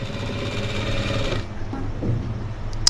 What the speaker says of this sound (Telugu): ఇలా జాగ్రత్తగా చిన్న చిన్నగా కుట్టుకోండి ఫాస్ట్ గా అయితే అవదన్నమాట